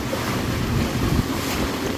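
Strong wind buffets the microphone aboard a sailboat, blowing steadily over choppy water with a continuous rushing roar and waves washing close by.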